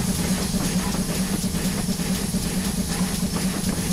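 A simulated train gathers speed on the Falmouth Branch in Train Simulator 2022, giving a steady, close rumble with a constant hiss and a low droning hum that runs unbroken throughout, with no voices.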